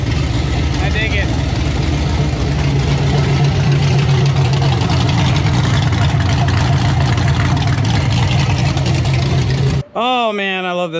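A Chevrolet SS V8 runs at a steady, deep idle, loud and close for most of the stretch before cutting off abruptly near the end, leaving a brief burst of other sound.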